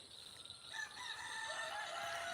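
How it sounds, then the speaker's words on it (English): Roosters crowing outdoors in a garden, their long drawn-out calls rising and overlapping from a moderate distance over a steady background, growing fuller after the first moment. "I hear them roosters crowing now."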